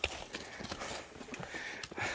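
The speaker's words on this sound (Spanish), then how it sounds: "Aguas con el caballo, Shari." Quick hoof clip-clops on hard ground, a busy uneven run of knocks with a faint breath or two mixed in.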